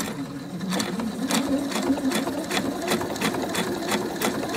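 A sewing machine runs at a close, steady hum, stitching a fabric lining into a knitted market bag, its needle ticking in an even repeating beat that continues without pause.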